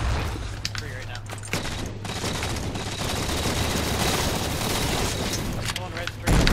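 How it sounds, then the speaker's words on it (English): Grenade blast and surrounding gunfire from a Halo 4 MLG custom multiplayer match, a dense, loud barrage of bursts and booms that continues under steady game noise, with a sharp heavier hit near the end. "Oh god, that's a nade"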